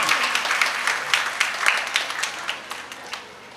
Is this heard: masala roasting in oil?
no